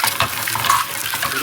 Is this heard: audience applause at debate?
no